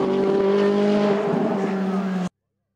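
A Ferrari 430 GT race car at the Chamrousse hill climb screams past close by, its engine a loud strained tone with a shifting pitch, before the sound cuts off abruptly.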